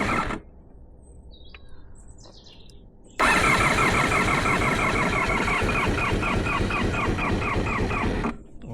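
A restored barn-find Honda VFR 400 NC30 motorcycle sits quiet amid faint outdoor birdsong, then its engine abruptly fires up and runs loud and steady close by for about five seconds before dropping off.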